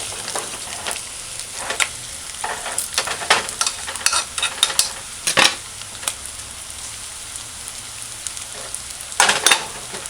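Ackee and bacon sauté in a pan with a constant crackling sizzle, punctuated by repeated sharp spatula scrapes and stirring knocks against the pan.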